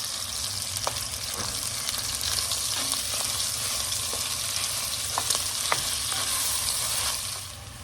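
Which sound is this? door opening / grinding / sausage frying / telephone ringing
sausage frying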